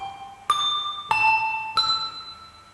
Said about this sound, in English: So I can actually make a different sound by, shall I say, thumping the bell on the table.